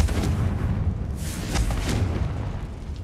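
Confringo spell explosions in the video game Hogwarts Legacy give a dense, booming blast with several heavy thuds over a few seconds, loud and alone.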